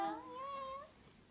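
A cat at a hospital gives a single drawn-out, tonal meow of about a second that rises and then fades, heard close and clear against a quiet room.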